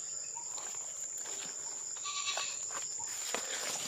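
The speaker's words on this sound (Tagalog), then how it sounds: "may pinastol na kambing ata dito" Goats bleat faintly from a rural field where farmers keep them, a few calls over a steady high insect drone.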